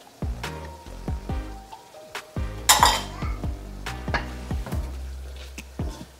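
Green beans and corn stirred into ground beef in a pan, with a steady run of sharp utensil scrapes and clinks against the metal, rhythmic and close, over a light sizzle and without talk.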